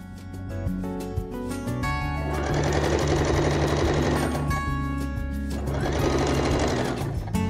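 A sewing machine stitching together the shoulders of a men's vest, a loud rapid mechanical rattle running in two long bursts with a brief slowdown between them, close and alone.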